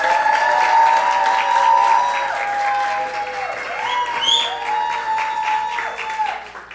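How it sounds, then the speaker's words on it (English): A large crowd applauds the graduating class of 2024 at a high school graduation ceremony, sustained, dense clapping that swells and dips with some cheering mixed in. "I present to you the graduating class of 2024. Please give them a loud round of applause."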